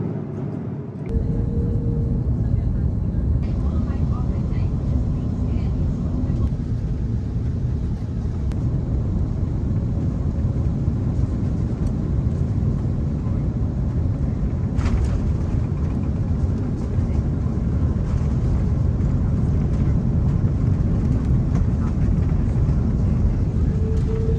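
Cabin of an SAS airliner taxiing to the gate after landing in Copenhagen: a loud, steady low engine and airflow rumble fills the whole stretch, with faint clicks and a brief muffled voice in the background.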